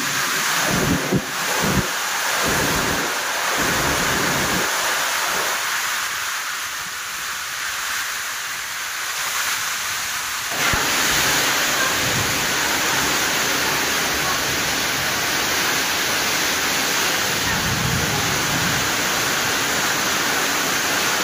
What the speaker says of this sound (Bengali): এত ঝড় বৃষ্টি আর তুফান আমি জীবনে একবার প্রথম ছোটবেলা দেখেছিলাম